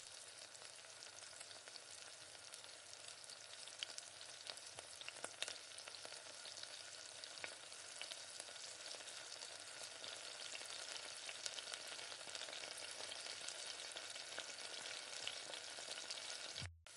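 Boiled potatoes and peas are stirred in a frying pan with salt, making a continuous soft sizzle with scraping stir sounds throughout, faint and close, with no one talking.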